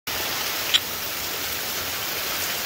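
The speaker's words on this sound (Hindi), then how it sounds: "बहुत जोर से बारिश हो रहा है" Heavy rain falls as a dense, steady hiss that does not let up, with one faint tap near the start.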